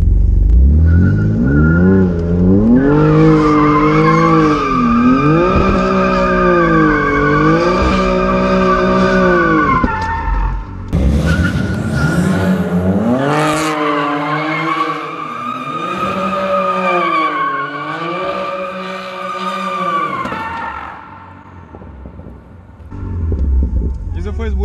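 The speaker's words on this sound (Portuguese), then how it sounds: "não podes fazer o carro parar de derrapar" A BMW M4 drifting in continuous circles, its tires squealing in long wavering howls while the engine revs steadily. The skid rises and falls across two sustained passes, loud and close, with a brief break between them.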